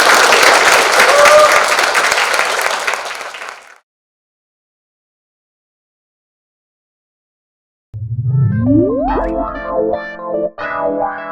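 Audience applause for the professors at a Korean medical lecture on arrhythmia, a dense burst of clapping that lasts about four seconds and stops, followed after a silence by a swooping electronic sound effect and chimes.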